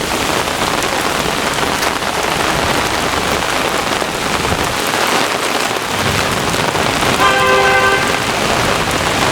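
Heavy rain pours in a dense, loud, continuous roar during a severe thunderstorm in Brooklyn, New York, with a car horn tooting briefly near the end.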